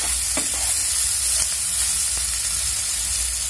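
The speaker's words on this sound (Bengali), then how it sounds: "এইভাবে একই সাথে ভালো করে ভাজাও হয়ে যাবে, আর আলু ভালো করে সেদ্ধও হয়ে যাবে" Potatoes fry for Bengali-style khichuri while a spoon stirs them in the pan, giving a steady, close sizzling hiss throughout with a few faint scraping strokes.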